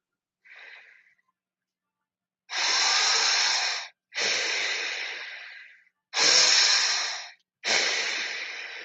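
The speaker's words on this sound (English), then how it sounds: "These should be fairly quick inhales and exhales. You are using some force on these breaths." Forceful breathwork breaths, with one short sniff followed by four long, loud, breathy rushes of air in an even rhythm, each lasting over a second with brief pauses between, close and alone without talk.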